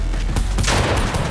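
Dense rapid gunfire in Fortnite, loud and close, a continuous clattering burst of overlapping shots with heavy low booms across the whole brief moment.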